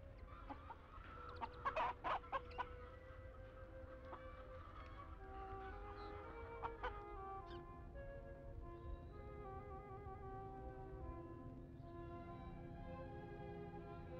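Chickens clucking inside a poultry farm, several birds calling at once with a burst of louder, busier clucks early on, then a steady murmur of hens over a constant low hum.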